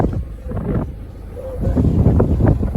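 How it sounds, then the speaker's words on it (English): Wind rushing through an open car window high on desert dunes, a loud, buffeting roar on the microphone with low rumbling gusts that swell toward the end. "It is a bit windy up here, but I just want to show you."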